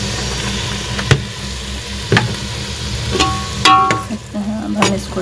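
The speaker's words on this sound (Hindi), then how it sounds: "अब हम इसमें बीफ ऐड करेंगे जो कि हमने यखनी से निकाल के लग रखा हुआ था" One kilogram of boiled beef pieces goes into a pot of frying spices for yakhni pulao, giving a steady sizzle with several sharp clatters and thumps as the meat drops in and is stirred.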